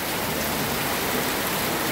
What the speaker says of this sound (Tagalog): So napakalakas na po ng pag-ulan sa kasalukuyan